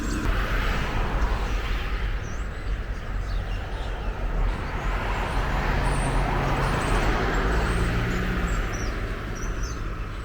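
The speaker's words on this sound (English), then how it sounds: "Too much traffic." A steady roar of road traffic rolls on without a break, a continuous rumble of passing vehicles heard from close by.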